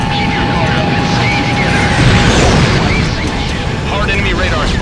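Missile explosions boom through a PlayStation air combat game, a continuous rumbling blast-filled barrage with a steady high tone early on, loud and dense throughout.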